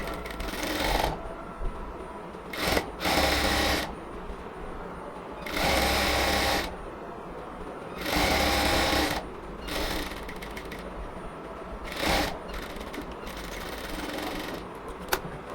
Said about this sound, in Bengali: এটাকে হচ্ছে আমরা প্রথমেই হচ্ছে সেলাই করে নেব, একদম পাশ থেকে ধরে।